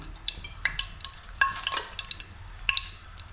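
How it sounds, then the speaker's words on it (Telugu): Cumin seeds and chillies dropped into hot oil in a home kitchen for a ginger tamarind curry, crackling and sputtering in close, irregular bursts with a few sharper pops. "నూనె కాగినాక కొంచెం జీలకర్ర వేసుకుని, ముందండి మిరగాయ వేసుకుందాం అమ్మ"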